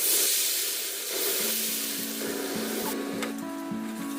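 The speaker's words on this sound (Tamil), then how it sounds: "இதை வந்து அப்படியே எண்ணெயில் போட்டு நம்ம பொரிச்சு" Egg batter coating quail frying in hot oil gives a steady, close sizzle and hiss that runs throughout, with faint clinks and tonal hums from the stove and pan in the background.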